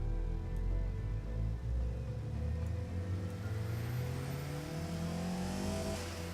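A small car engine fitted with a baffled exhaust in the Automation tycoon game revs steadily, a loud, continuous rumbling drone whose pitch climbs gradually toward the end, with no voices over it.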